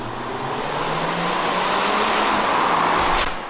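A 2021 Mercedes E350 4Matic mild hybrid engine hums steadily with road and tire noise while cornering, its pitch shifting slightly as it drives on, heard from inside the vehicle.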